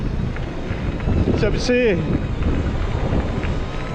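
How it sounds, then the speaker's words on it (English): Constant gusty wind rumble at the UK's largest onshore wind farm, with a person speaking briefly in the middle over it. "It's quite windy, I think."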